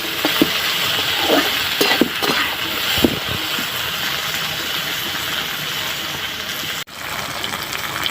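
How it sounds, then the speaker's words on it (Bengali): Jackfruit seed and potato mixture stir-fried in a pan, with a steady close sizzle broken by several sharp scraping strokes of the spatula, and a brief dip near the end. "সবগুলো একসঙ্গে আমি ভালো করে ভাজবো।"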